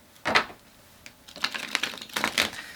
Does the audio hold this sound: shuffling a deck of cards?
yes